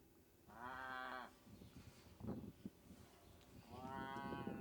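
Dairy cows on a farm in Clarence that dates to 1910 give two long, drawn-out moos, one early and one at the end, with rustling and shuffling barn noise between them.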